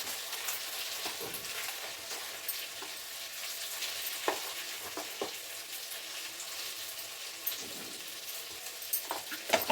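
Chicken fries in a pan with chili powder, giving a continuous close sizzle. A utensil stirs and scrapes through it, with sharp clicks scattered across the whole stretch and no voices.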